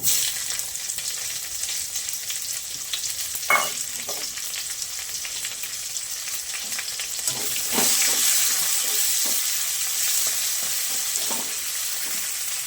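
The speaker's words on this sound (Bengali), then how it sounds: "শুকনো লঙ্কা তেজপাতা ভাজা হয়ে গেছে, এবার একটা কুচিয়ে রাখা পেঁয়াজ দিয়ে দেবো।" Chopped onion fries in a pan with dry red chilli and bay leaf for a bottle gourd and prawn dish, giving a steady, broad sizzle up close that swells slightly partway through, with a few faint clinks.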